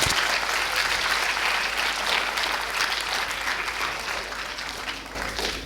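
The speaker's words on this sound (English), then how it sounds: "Give him a round of applause." Steady, dense applause from an audience at a talk on the Bhagavad Gita, continuous clapping that holds level for the whole stretch with no speech over it.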